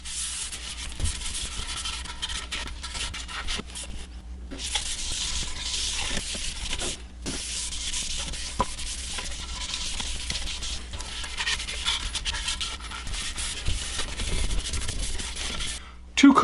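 Steady soft rubbing of a cloth wiping dye stain onto flame maple guitar body wood, a continuous close swishing texture with brief breaks, no talking.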